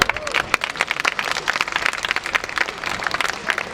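A school community audience applauds high school student speakers at a values walk event in Toronto, a fast, crackling patter of many hands that stays close and lively, with a voice faintly mixed in.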